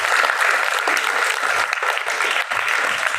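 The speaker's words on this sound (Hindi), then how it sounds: "प्रिंसिपल मैडम ने कहा कि काव्या के लिए सभी जोरदार तालियां" A group gives a student named Kavya vigorous applause in a school setting, dense and sustained clapping close by with no breaks throughout.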